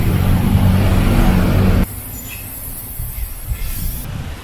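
Rust-Oleum paint primer in satin apple red sprays from an aerosol can onto furniture legs outdoors: a loud, close hiss that cuts off abruptly partway through, leaving faint breezy outdoor ambience.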